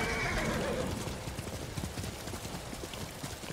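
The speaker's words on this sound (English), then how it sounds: "You're the sturdiest horse I've ever seen in my life" A horse in the video game Ghost of Tsushima whinnies loudly at the start, followed by a steady run of hoof clip-clops, close and rhythmic, with no talking.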